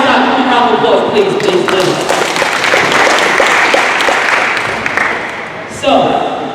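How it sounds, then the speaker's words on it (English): Participants at a basketball coaching clinic give a round of applause, dense clapping with some cheering in an echoing gym, tapering off before a coach's voice returns at the end. "Give me a round of applause, please."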